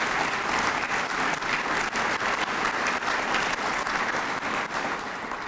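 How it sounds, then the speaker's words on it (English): Sustained applause from a seated crowd at a Northwestern homecoming luncheon, a dense steady wash of many hands clapping, loud and continuous throughout. "So how about a round of applause for all of that?"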